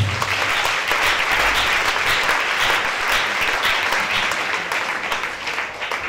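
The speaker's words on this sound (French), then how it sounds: "Acclamez très fort pour Jésus." A church congregation applauds loudly and continuously, dense clapping that fills the room at a steady level from start to finish with faint crowd murmur beneath.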